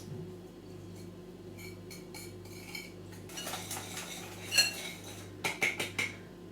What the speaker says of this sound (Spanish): Vamos a ir batiendo hasta que eh, podamos ver que adquirió cremosidad.